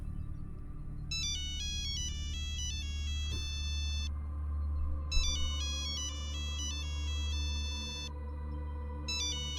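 A telephone rings with repeated electronic ringtone bursts, two clear ringing cycles over a low steady hum, with no talking.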